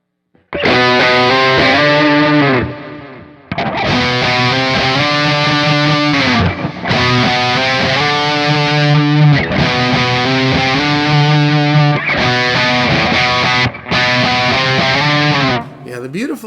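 Distorted electric guitar played through an Orange amp model on a Kemper or Axe FX profiler, loud sustained chords in phrases with short breaks between them.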